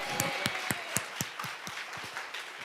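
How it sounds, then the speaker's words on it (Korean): A church congregation claps during a Sunday worship service, a loose, uneven run of distinct claps spaced roughly a quarter second apart, moderately loud in a reverberant room. "우리가 그 주님께 영광의 박수 올리기 원합니다"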